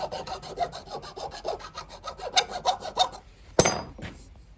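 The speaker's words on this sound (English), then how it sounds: "it's just gonna file the face of that pewter, shape that up here" A metal file rasping across the pewter on a handmade hickory-handled knife, a steady run of close, quick back-and-forth strokes followed by one sharper scrape and a short pause, no talking.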